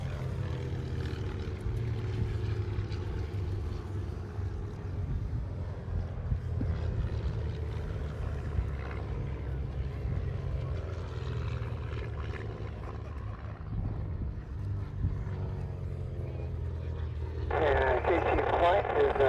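Jet aircraft at the Fort Wayne Air Show, with US Air Force Thunderbirds nearby: a steady, broad engine roar that swells louder near the end, heard over outdoor crowd noise.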